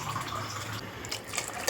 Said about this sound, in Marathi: पाणी टाकतो, पळी काढून घ्यायची.